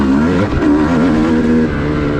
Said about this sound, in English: the bike is actually slowing down from engine braking.